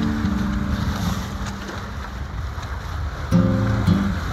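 A Hunter 20 sailboat motor sails along the Devon coast, a steady low outboard engine drone mixed with wind rush and water noise, with a louder throb of the motor near the end and no talking.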